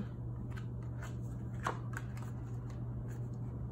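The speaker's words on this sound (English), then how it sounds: "So I'm going to turn these cards my way." Tarot cards handled and turned over on a table during a reading, a run of soft, quiet flicks and slides with one slightly sharper snap near the middle, with no talking.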